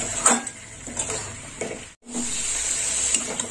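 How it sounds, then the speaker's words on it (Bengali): Bitter gourd cooked with yogurt and salt is stirred in a pan: rhythmic scraping strokes roughly every half second over a constant close sizzle, with a momentary break in the middle. "লবণ দেওয়ার পর আর একটু নেড়ে চেড়ে নেব।"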